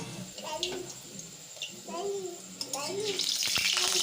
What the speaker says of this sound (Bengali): যা তেল ছেটকাচ্ছি